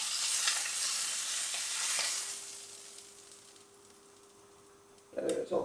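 Meat sears in a hot pan with a steady hiss and sizzle that gradually fades and quiets, then a short clattering burst near the end.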